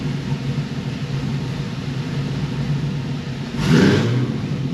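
Supercharged Cadillac CTS-V running on a dyno to purge methanol, its engine a steady close rumble that swells into a louder rev near the end.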